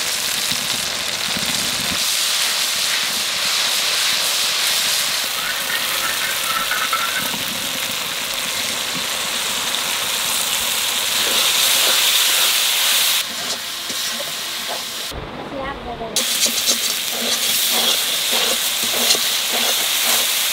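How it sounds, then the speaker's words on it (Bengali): Spices being fried down in a pan for raw jackfruit with mutton keema, a steady close sizzle and hiss that runs throughout, with a brief drop near the end before the frying noise returns. "মশলা ভালো করে কষায় নিছি"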